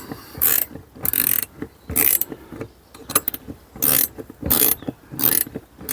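A roof rack clamp on a Peugeot 3008 Mk1 is ratcheted tight, giving seven or eight loud, close bursts of rapid mechanical clicking at a steady rhythm, each separated by a short pause.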